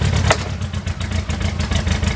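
Clark C500-Y45 forklift's LP gas engine running steadily with a low, even mechanical drone, near and continuous with slight rhythmic pulsing.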